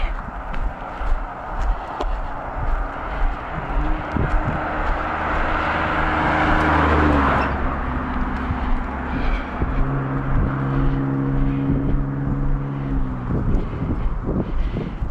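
Wind gusting outdoors during a walk in Maine, a continuous broad roar buffeting the microphone, swelling toward the middle, with low droning tones sustained underneath.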